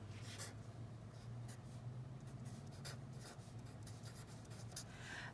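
Pen or marker scratching steadily by hand while working a physics kinematics equation, a continuous soft rubbing with brief stroke accents over a low background hum, no talk.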